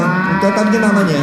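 A child imitates a cow's moo at a seventh birthday party game, a single drawn-out lowing call held for about a second, close and clear.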